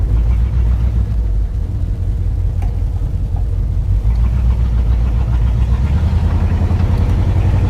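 A 1959 Dodge Coronet, revived after being abandoned, runs on its first drive and smokes a little, with a steady low engine rumble holding constant and close throughout.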